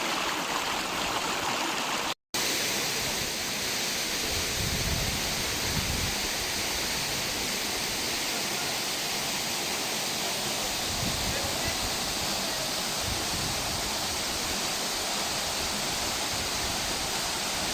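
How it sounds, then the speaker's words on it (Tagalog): Sampaloc Falls in Siniloan, Laguna pours with a constant, dense rushing roar that fills the whole stretch. It is loud and close, and voices can be heard faintly beneath it. "So nakikita ko na guys, yung Sampaloc Falls."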